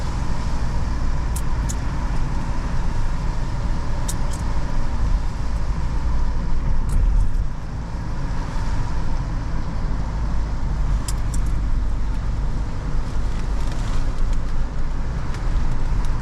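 A car rolls along a potholed road, giving a steady loud engine and road rumble throughout with a brief dip midway and faint higher clatter, no talk.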